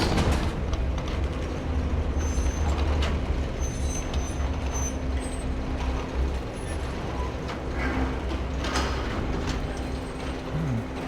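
A metro train rides along in the video game Stray, a continuous loud rumbling rail ride with mechanical clatter and rattling throughout, steady and close with no voices.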